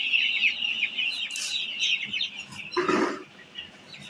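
Chickens on a poultry farm cluck and chirp close by in a short burst of overlapping calls, with one louder squawk near the end.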